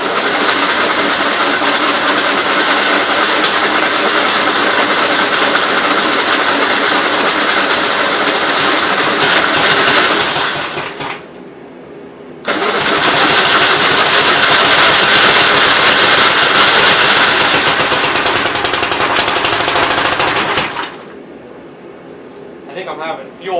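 A rebuilt 1957 Gravely SR engine runs loud and steady right by the microphone after a top end rebuild, dropping twice to a quieter idle before picking back up.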